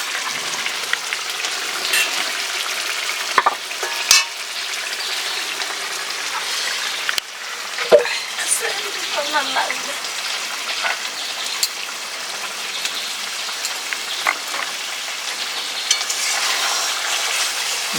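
Lote fish curry with garam masala sizzling and frying in a pan, a steady crackling hiss with occasional scrapes and clinks of stirring, close and continuous.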